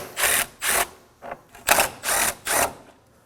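Socket wrench removing 10mm bolts during a radiator replacement on a 2016-2020 Kia Sorento 2.4L L4, heard as six short, close ratcheting bursts in an uneven rhythm with brief pauses between them.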